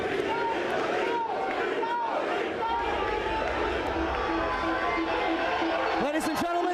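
A wrestling crowd at an AEW show roars and chants continuously, a dense loud mass of voices with cheering swells, and some individual shouts rising above the din.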